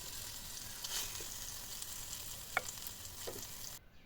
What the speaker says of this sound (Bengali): এই তো ভাজা ভাজা শুরু করলাম।